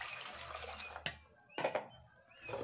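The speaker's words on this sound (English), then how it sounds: "then add some water," Water poured into a pot of peeled coco-yam gives short, splashy gushes and a trickle, with brief pauses between pours, close and fairly quiet, with no talking.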